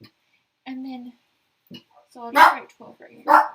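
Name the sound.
dog barking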